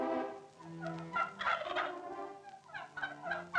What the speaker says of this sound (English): Pembrokeshire turkeys are their big business,